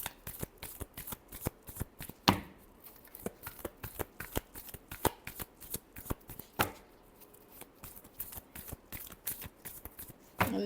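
Tarot cards shuffled by hand during a love reading, a long run of close, crisp riffling flutters and soft slaps, with two sharper bursts and brief pauses between bursts, and no voices.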